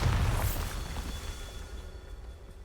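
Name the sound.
Bombarda spell explosion effect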